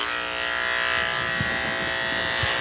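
Electric dog clippers fitted with a 16 blade, trimming a small dog's curly head, giving a steady, even buzz held close throughout, with a couple of faint soft knocks and no talking.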